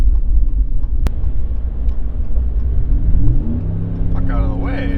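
A Ram 1500 pickup with a Borla S-Type exhaust accelerates onto a highway, its deep rumbling drone rising in pitch as it gathers speed, heard from inside the cab under a voice.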